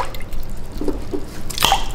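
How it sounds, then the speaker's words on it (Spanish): Cut potato pieces dropped into a pot of salted water, giving a single splash near the end after a few soft wet drips, close and fairly quiet with no talking. "Tiramos nuestras papas."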